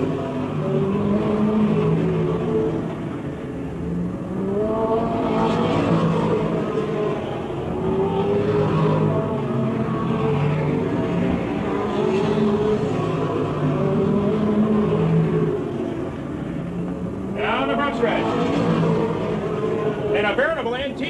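Stock race cars roaring down the front stretch at a 1992 MASCAR event at Petty Raceway, engines whining and shifting in pitch as they pass, under continuous announcer commentary.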